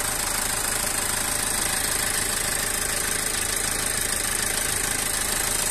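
Toyota Verso D-4D manual diesel engine at idle with 64,000 miles, a steady close clatter and hum holding even for the whole stretch with no voices.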